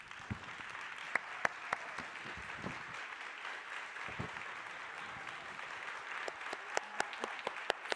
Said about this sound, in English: would you please stand up and take applause?